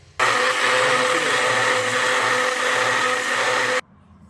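A kitchen blender grinds mint chutney in one loud, steady whirring burst of about three and a half seconds that starts and stops abruptly.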